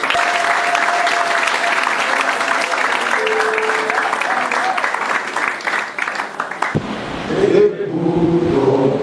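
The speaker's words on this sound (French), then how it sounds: "Et je vous demande d'applaudir une fois de plus." A ceremony audience claps loudly and steadily for several seconds, a dense wash of applause that cuts off abruptly near the end as a voice begins speaking.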